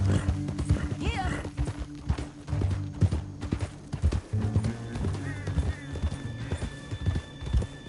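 Horse hooves clip-clop steadily in the open-world western game Red Dead Redemption 2, mixed with a whinny, background music and voices speaking over the riding.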